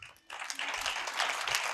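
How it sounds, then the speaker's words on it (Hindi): Applause from a congregation at a healing prayer meeting, a short, fairly quiet wash of clapping rising after a brief gap and continuing steadily. "और ये तालियां जो है ना"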